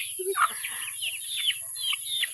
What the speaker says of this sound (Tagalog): Daghan silag manok dari guys